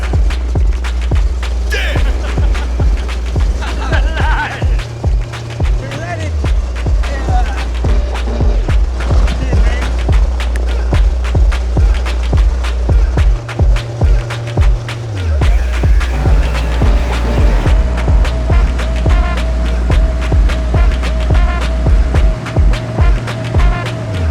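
A small homemade aircraft, a Grasshopper, runs its engine at full throttle with brakes set, a loud steady drone with rhythmic throbbing pulses and rattling vibration that persists throughout.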